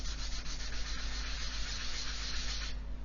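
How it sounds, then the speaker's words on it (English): Steady close rubbing rasp of a plastic 1/24 Airfix Hellcat cockpit panel pushed back and forth on a sanding board, continuous and even throughout with no voice. "I'm just going to keep sanding until all that detail disappears, and what I can do is put this board down and rub the panel like so"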